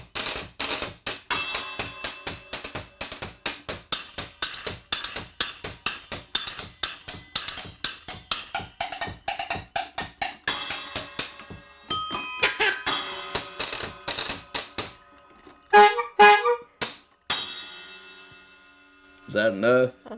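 A scrub board fitted with bells and horns, played with thimbles, gives rapid dry scraping and tapping rhythms, close and loud, followed by a few ringing bell dings and honking horn toots near the end.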